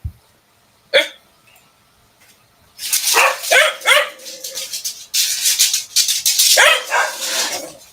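Dogs bark and yip in several bursts at moderate distance, with a lone sharp yelp early on followed by a busier stretch of overlapping barks, and no talking.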